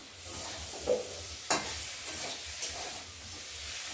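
Rui fish curry masala with tomato sautéing in a pan, a continuous soft sizzle with a few quick stirring knocks and scrapes of a spoon.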